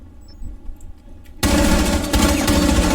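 Gunfire erupts in the tactical shooter game Rainbow Six Siege: quiet room tone with faint clicks first, then a loud, sustained burst of rapid automatic fire that carries on to the end.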